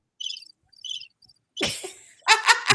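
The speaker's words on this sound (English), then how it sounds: "They'll put the crickets on there." Cricket chirping sound effect played during a radio interview, with two short trilling chirp bursts and a faint third, followed by a person's voice close up.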